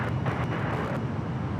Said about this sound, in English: Got that United Dreamliner up next.